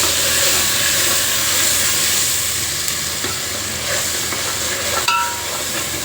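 Onion and garlic paste frying in a pan for chole, a loud, close, continuous sizzle with steamy hiss, plus an occasional light clink of a spoon, and no voices.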